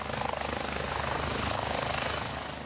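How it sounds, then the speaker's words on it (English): Helicopter landing on interstate highway I-95 after a semi-truck crash, its steady close rotor and engine roar filling the short stretch loud and continuous, with faint rhythmic blade chop, no talking. "After the crash, a helicopter landed on I-95 to take the injured semi-driver to the hospital"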